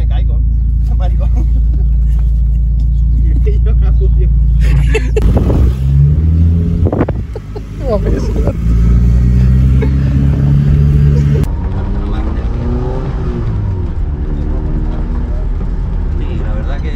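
A Mini-styled minivan with a 1.3 TwinCam 16v engine drives along with a loud, close, low engine roar and wind buffeting, while people talk over it and the engine note rises and falls with gear changes.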